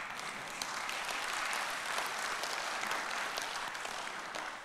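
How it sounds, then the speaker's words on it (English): A church congregation claps together in a steady, moderately distant round of applause that holds evenly for several seconds. "that's worth clapping over right there"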